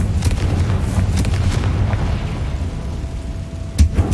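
A Confringo blasting spell goes off in Hogwarts Legacy, a loud booming blast over dense rumbling game action, with sharp cracks near the start and a further burst near the end.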